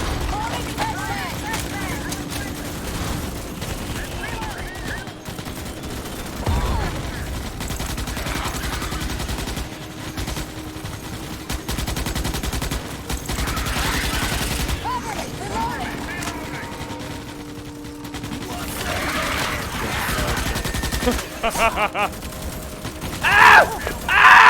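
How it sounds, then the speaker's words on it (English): Sustained gunfire in the sci-fi bug-hunting shooter Starship Troopers: Extermination, rapid automatic bursts and scattered shots running through the whole stretch amid battle noise, with players shouting and talking over it. "You're shooting us, you fucking idiot!"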